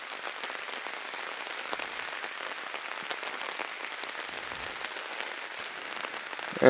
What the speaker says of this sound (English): the rain's certainly falling down now